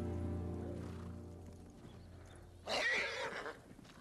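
A white horse in the samurai video game Ghost of Tsushima gives a short whinny near the end, after a steady game soundtrack drone and faint hoof movement.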